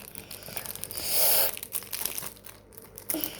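Plastic wrappers from trading card packs crinkle and tear up close, building to a louder rustling burst in the middle before settling into softer, intermittent crackles, with no talking.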